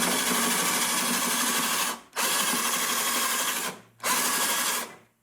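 A drill bores out spot welds on a Mercury Sable station wagon rocker panel, running in three loud, sustained bursts with two brief stops between them.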